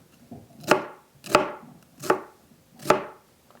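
Four sharp knife chops through an onion on a cutting board, evenly spaced about a second apart, close and crisp with no voices.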